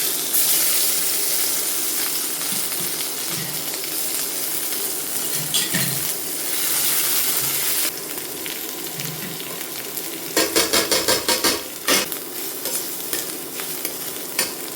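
A spatula scrapes and stirs ground spices in a hot pan on a raised flame, with a steady background sizzle and a burst of rapid scraping strokes toward the end.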